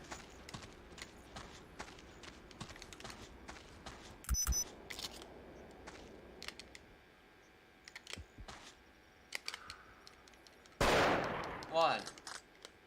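Gunshots ring out in the hunting video game Cabela's Outdoor Adventures: a sharp blast a few seconds in, quieter clicks and taps, then a loud, drawn-out shot and its echo toward the end.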